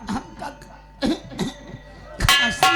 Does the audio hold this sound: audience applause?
no